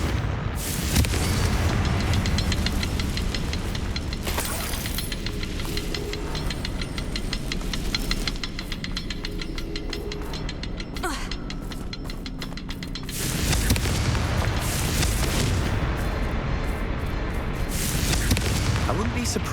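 Confringo fire spell blasting in Hogwarts Legacy, booming explosive bursts with rattling debris, one near 4 seconds and a heavier surge from about 13 seconds onward, over continuous loud game noise with a voice talking.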